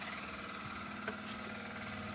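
A Hyundai G4GC car engine idles at a steady, even pace, giving a faint, continuous low hum with one brief tick near the middle.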